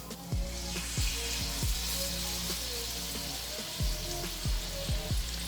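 Oil sizzles hot and steady in a pan ready for searing lamb chops, a constant bright crackle with repeated low thuds and clinks of cookware, close and with no talk.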